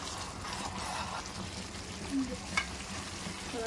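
Chicken kosha sautéing in a pan, a steady close sizzle with soft stirring scrapes and a few small pops throughout.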